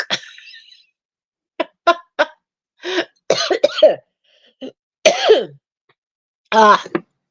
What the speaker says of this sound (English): Don't need to start coughing.